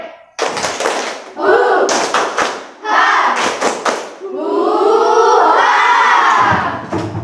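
An audience at an Indonesian teacher-training session performs a 'tepuk hore' clapping chant, with bursts of rhythmic group claps and loud shouted voices in unison, building into a sustained crowd cheer.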